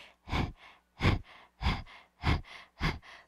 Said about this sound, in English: we're going to start panting like little puppy